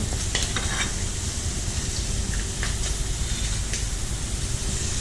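Burger patties frying on a hot griddle, a loud continuous crackling sizzle with a few sharper pops and scraping touches, no voices.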